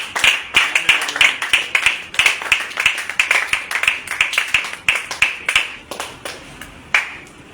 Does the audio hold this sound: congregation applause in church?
yes